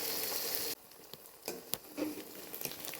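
Five eggs with garlic and chili sizzling in a pan on the stove: a loud, bright sizzle that suddenly drops to a quieter crackle, broken by a few sharp clicks and scrapes.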